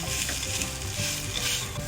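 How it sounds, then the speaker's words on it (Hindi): Mawa and dry fruit roasting in a pan as the mawa melts, a dense steady sizzle with constant close stirring and scraping, no voices. "मावा को मेल्ट होने तक हम इसको भूनेंगे अच्छे से।"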